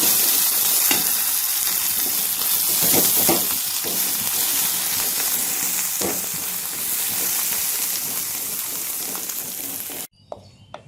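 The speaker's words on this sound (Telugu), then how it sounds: "తాలింపు బాగా ఉడికింది" Tempering spices such as cumin and garlic sputter and fry loudly in hot oil in a pan for mint chutney, a steady close sizzle with crackling pops before cutting off abruptly.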